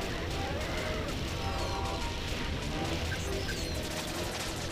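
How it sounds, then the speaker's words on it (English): Dense bursts of crashes and blasts from the Jet Force Gemini video game, where an exploding suicidal bat attacks, running continuously under a faint voice amid the gameplay din. "Exploding suicidal bat, sir."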